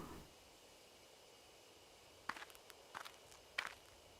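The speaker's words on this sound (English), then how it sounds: "I hear footsteps again." Footsteps in the horror game Death Mark crunch out of the bushes in three short bursts, faint and close by over a quiet dark ambience, with no talk.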